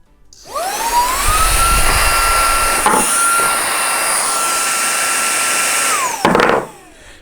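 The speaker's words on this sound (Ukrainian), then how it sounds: "наш пилосос спокійно може прибирати навіть ось таке велике каміння" A powerful cordless car vacuum cleaner rated at 17,000 Pa runs with a loud, steady high whine while sucking up large stones, its motor note rising at switch-on, with brief rattling clatters of stones partway through and near the end.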